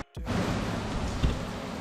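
Steady rain falls outdoors in a dense, even hiss that starts abruptly after a moment of near silence, with one louder patter or thump midway and no voices.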